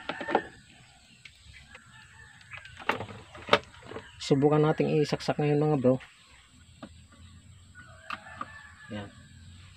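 A rooster crows loudly nearby in one long harmonic call, with scattered clucks, knocks and someone talking before and after.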